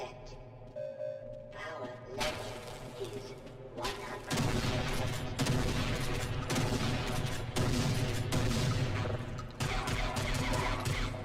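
Shotgun blasts and other gunfire ring out in the video game Half-Life, loud bursts firing in quick succession over several seconds while a player talks over the shooting.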